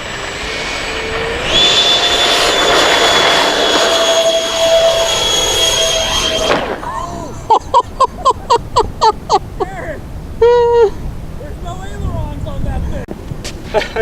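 A twin Freewing F-18 Hornet RC model jet roars loudly for about six seconds with a steady high whine over broad rushing noise, then fades out as people talk and clear rhythmic chirps follow.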